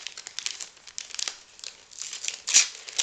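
Paper wrapping around a book is torn open at close range, a quick series of crinkling and ripping sounds with a sharper tear near the end.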